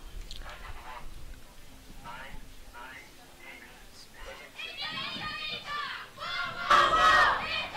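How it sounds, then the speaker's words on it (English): Italian team cheering as they warm up at a European youth competition in Patras, distant crowd voices swelling into loud shouts near the end, with a commentator talking over the first half. "we can hear them cheering"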